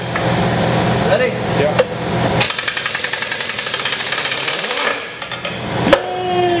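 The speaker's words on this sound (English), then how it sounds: "This impact has never met a bolt that it couldn't A, break loose, or B, break." A loud impact wrench hammers at bolts on a worn brush hog mower, rattling in sustained bursts with sharp clanks at the start and end, close and loud in a work setting.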